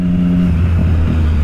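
A Triumph Street Triple 675 motorcycle engine rumbles loud and close, a steady, deep, continuous drone with no voices over it.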